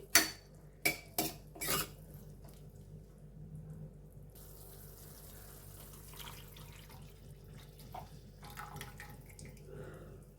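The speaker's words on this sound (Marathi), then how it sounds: "आता याच्यामध्ये आपण ताकाचं मिश्रण आहे तर ते घालूया" A buttermilk mixture is poured into a cooking bottle gourd curry: a few loud utensil knocks at the start, then a soft, continuous pouring and stirring sound in a quiet kitchen.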